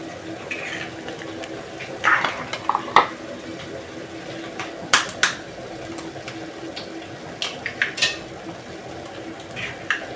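Eggs in a pan for shakshuka are moved about gently, giving soft squishy stirring with scattered light clinks of a utensil against the cookware over a low background hiss.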